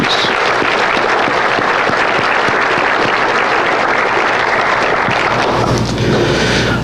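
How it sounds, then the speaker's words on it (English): Loud, dense applause from a large crowd at a State of the City address, steady throughout before tapering off near the end. "a round of applause for our city employees"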